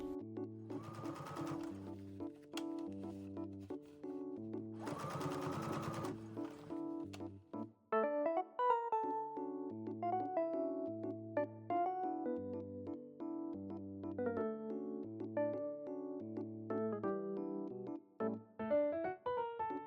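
A sewing machine top stitches a bucket hat seam, whirring in short bursts and then longer steady runs over light background music, with no talking.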